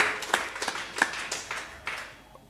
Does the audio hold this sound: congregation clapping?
yes